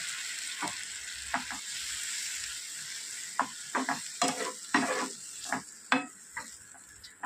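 Curry sizzling and frying in a pan after a little water is poured in, with a steady hiss under scattered stirring scrapes and clinks spread across the clip.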